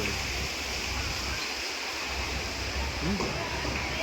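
A mountain stream flows beside a walking path near the Sundha Chamunda Mata temple, giving a constant, fairly soft rush of water with faint voices in the background.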